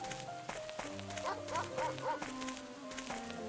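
Dog in a Sherlock Holmes video game barking repeatedly in short, close yips and bow-wows over a low droning game music bed.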